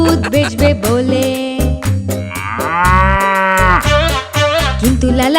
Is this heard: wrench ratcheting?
no